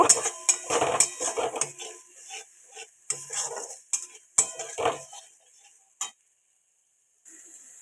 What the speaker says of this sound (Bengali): দিয়ে এটাকে ভালো করে নাড়তে হবে এটা আমি কিছুক্ষণ নাড়ব